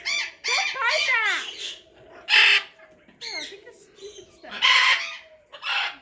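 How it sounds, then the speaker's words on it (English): Several loud, harsh macaw screams ring out close by in quick bursts, one after another, filling the space. "the birds are screaming in my ear"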